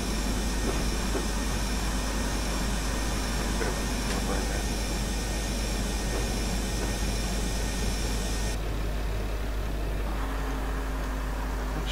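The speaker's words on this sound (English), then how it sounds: "I'm just using the gear to control the speed of the train." A train from Bishop Auckland to Darlington in Train Simulator 2016 rumbles steadily, a constant engine drone and rolling noise with a low hum that shifts near the end as the speed is changed, while someone talks over it.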